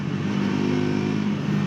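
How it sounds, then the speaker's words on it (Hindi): A Triumph Tracker 400 motorcycle's exhaust note hums in a steady, throaty drone while the bike accelerates, loud and close, with no voices. "भाई साहब क्या प्यारा एग्जॉस्ट नोट इस मोटरसाइकिल में मिलता है।"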